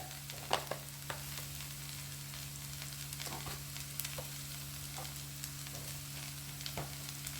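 Pepper chicken masala sautés slowly over a low flame, giving a quiet, continuous frying sizzle with scattered soft clicks and scrapes from stirring. A steady low hum runs underneath.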